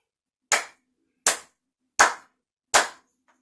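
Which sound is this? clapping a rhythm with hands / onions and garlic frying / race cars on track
clapping a rhythm with hands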